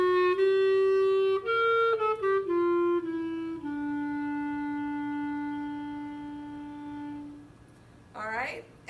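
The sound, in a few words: clarinet playing band part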